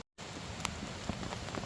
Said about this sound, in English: So we've got a little bit of rain,